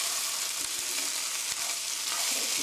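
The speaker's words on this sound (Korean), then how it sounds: "스tir fry 5미닛 5분 정도 이렇게 해서 볶아주세요" Meat sauce stir-frying in a pan, a steady close sizzle with broad hiss throughout and a few soft scrapes of stirring, no talk.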